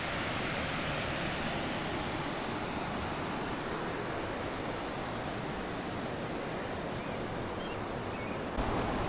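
A river waterfall on the Youghiogheny River in Fayette County, Pennsylvania, roars as a steady, dense rush of falling water, loud and unbroken throughout.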